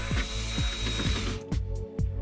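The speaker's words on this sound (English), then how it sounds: "And now I'll put in a larger bit and widen the holes a little." A drill widens holes in an Apple IIe computer case with a larger bit, a close whirring motor with repeated ratcheting bursts of the bit biting and a few short pauses.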